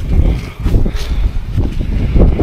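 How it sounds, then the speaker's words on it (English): Gusty wind buffets the microphone outdoors on rural land being cleared, a loud, rumbling low roar that swells and dips throughout with no other clear sounds. "Sorry about the wind."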